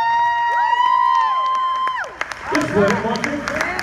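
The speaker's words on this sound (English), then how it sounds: "a round of applause. Put your hands together" A crowd at a live show cheers and applauds for a $500 cash prize winner, with whoops and clapping rising loudly after a host's amplified voice and tonal stage music fade out.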